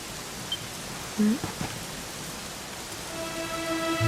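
Steady rain falls in a Dragon Quest XI cutscene, an even wash of hiss with a few brief tonal blips and a faint rising musical drone near the end.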